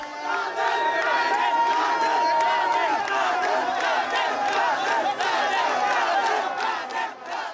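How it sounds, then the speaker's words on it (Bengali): Young fans in Brazil jerseys at a World Cup celebration rally in Bangladesh, a loud massed crowd chanting and cheering in continuous waves, with whoops rising above the roar. "ব্রাজিলের জার্সি গায়ে তরুণদের ব্রাজিল ব্রাজিল স্লোগানে মুখর হয়ে ওঠে চারপাশ।"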